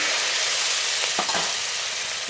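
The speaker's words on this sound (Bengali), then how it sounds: "মশলা খুব ভালো করে কষিয়ে নেব" Spices sizzle steadily as they are stir-fried in a pan for a fish and taro curry, with whole bay leaf, dried chilli, cumin powder and green chilli paste; a dense hiss holds throughout, with a couple of brief scraping stirs partway.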